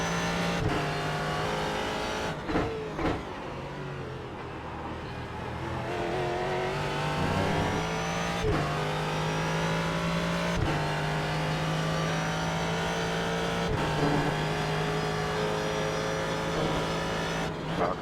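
Ford GT race car in the iRacing sim game, the engine droning steadily with rising and falling revs through gear changes and a few sharp shift breaks, loud and continuous with no talking.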